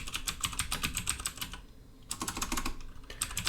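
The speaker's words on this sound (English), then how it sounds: "my keyboard's really loud when I talk." Rapid clacking of a loud computer keyboard, typed in bursts with a brief pause in between, close up.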